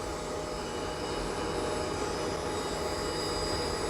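Airplane engine in the GeoFS flight simulator game, a constant droning hum that stays steady and even throughout the short stretch with no voices.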